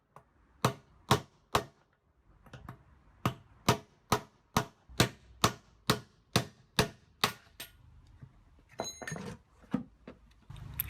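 Sharp metallic hammer blows ring out in a steady series of about sixteen strikes, knocking failed bearings out of a washing machine drum, followed by some clinking and rattling.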